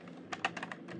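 A single computer keyboard key press, the Enter key, tapped while configuring a network switch, heard as a few quiet clicks close by with no talking.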